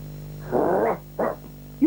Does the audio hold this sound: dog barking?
yes